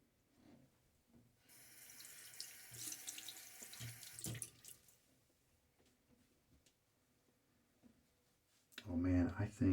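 Tap water runs steadily into a sink while a shaving brush is rinsed, a broad wash of splashing that starts after a second and fades, with a louder splash near the end and talk alongside.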